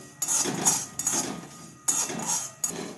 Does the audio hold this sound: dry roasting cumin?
yes